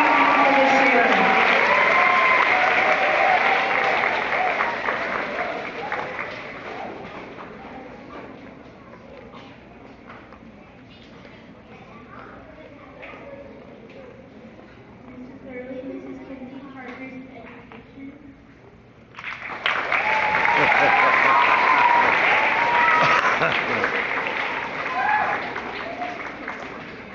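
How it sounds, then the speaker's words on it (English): Audience applause for honorees at an awards event, loud clapping at the start that fades to a murmur under chatter midway, then surges back strongly for the final stretch. "let's give all these ladies and gentlemen a huge round of applause"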